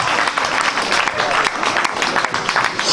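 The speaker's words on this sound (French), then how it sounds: "Merci bien, avec tous vos applaudissements, s'il vous plaît." A crowd applauds steadily in a dense wash of clapping at a Senegalese referendum political rally, with a voice speaking in French over it throughout.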